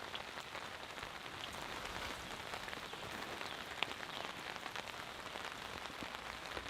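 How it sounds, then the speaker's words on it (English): Heavy rain pours straight down with no wind onto a covered campsite, a dense, steady hiss of drops drumming on the cover at close range, continuous and even throughout with no voices. "No wind, perfect rain, just came straight down."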